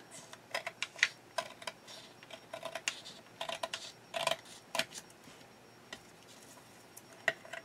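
Paper scraps cut along a line for a magazine collage, heard as a rapid, irregular series of crisp, close snipping clicks with brief pauses between them and no talking.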